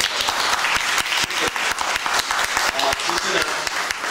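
A seated audience at a product presentation claps in a dense, sustained burst of applause that fills the whole stretch.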